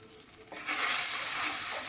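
A spoon stirs a simmering Bengali curry broth for bata fish, made without turmeric, in a pan. A brief quieter scrape gives way to a steady, loud bubbling hiss with no talk.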